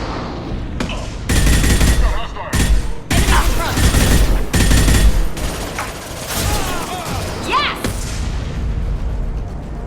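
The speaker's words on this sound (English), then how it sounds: "The Blue Suns and Vorcha shooting anything that moves." Rapid gunfire bursts from Blue Suns mercenaries and Vorcha in Mass Effect 2, loud overlapping volleys and explosive booms in quick succession with short gaps, fading toward a lower rumble at the end.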